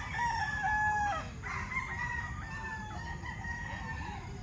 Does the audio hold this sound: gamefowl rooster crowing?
yes